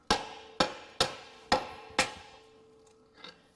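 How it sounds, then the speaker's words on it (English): Five sharp metallic hammer strikes on a Honda Accord front axle ring out at an even pace, each with a short ringing decay, followed by a faint clunk. "use a combination of my pry bar on there and my hammer to see if I can tap it out"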